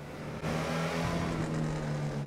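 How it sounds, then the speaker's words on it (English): The Emperor Vectre sports car engine in GTA 5 Online roars loudly and steadily, with a rough, crackling edge. "It has this awesome crackle effect when you lay off the gas"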